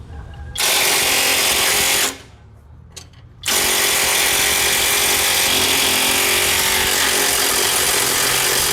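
An STR 21V cordless impact wrench, model ST-780 rated at 1,100 newton-metres, hammering on long-threaded trailer bogie nuts. It makes a loud, continuous rattling burst, stops briefly, then runs again at full power.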